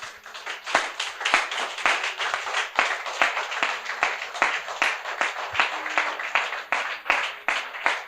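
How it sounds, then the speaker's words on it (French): Congregation at a church sermon clapping together in a steady, fairly loud burst of applause that carries on throughout without talk. "Est-ce qu'on peut acclamer fortement notre Dieu?"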